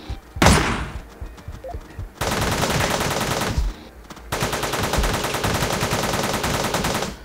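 Shotgun gunfire in the top-down shooter video game Teleglitch: one heavy blast followed by long, dense bursts of rapid repeated shots, loud and close, with a brief pause between the two volleys.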